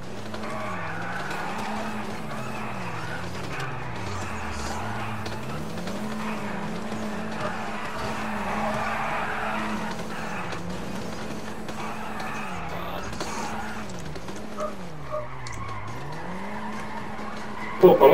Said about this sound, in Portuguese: eu tô mandando um drift aqui